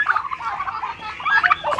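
Turkeys gobble at a farm where they feed on mixed waste, several close, loud rattling gobbles overlapping in quick bursts across the clip.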